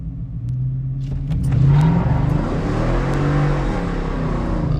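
Ford F-150 with Coyote V8 and cold air intake launching hard on a drag run, a loud, close engine roar rising in pitch as it revs through acceleration, with a dense, continuous rumble throughout.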